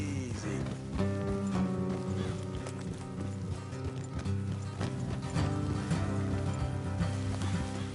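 Horse hooves clip-clop steadily through a dense in-game mix of music and ambience in Red Dead Redemption 2, moving at a steady pace, fairly faint and partly buried.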